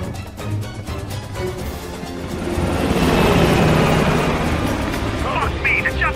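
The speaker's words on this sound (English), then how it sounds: "The chopper got away!" A helicopter in Call of Duty: Black Ops Cold War roars loudly and steadily, its rotor wash swelling midway as it flies off, with fast action-game background sound and no talking.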